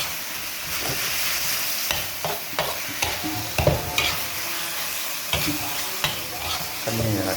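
Thai basil (kaphrao) stir-fried in a pan, giving a steady close sizzle broken by repeated sharp scrapes and clacks of the spatula stirring in an irregular rhythm.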